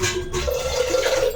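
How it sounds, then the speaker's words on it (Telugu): Water is poured into washed rice in a home kitchen, making a steady, close rushing and splashing pour that lasts throughout the short moment, with no talking. "ఇప్పుడు వాటర్ వేస్తున్నాను."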